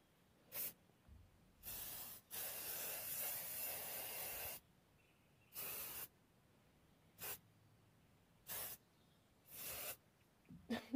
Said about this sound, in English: spray them with hairspray, because I think that seals the chalk pastels in